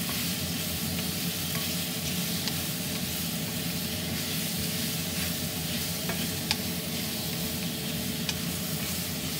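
Tofu stir-fried with garlic in a pan sizzles steadily and loudly, a dense constant hiss with faint scraping of stirring throughout and no talking.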